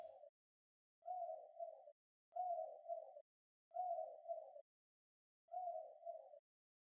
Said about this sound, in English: you have owl hoot,